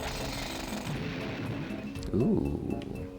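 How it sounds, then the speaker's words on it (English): In the video game Banjo-Tooie, a drill bores into a stone with a steady rough grinding rumble, loudening briefly near the end, heard alone without talk. "So the idea is to use the drill in this middle stone."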